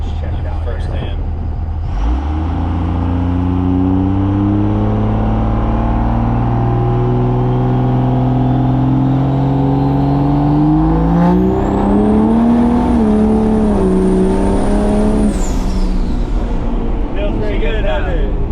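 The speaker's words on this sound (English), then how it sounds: "We're just gonna do a light launch, check it out" A 1,000+ horsepower Cummins-swapped squarebody truck does a light launch, its diesel engine roaring loud and close as the revs climb steadily over many seconds, with a high whine rising near the end.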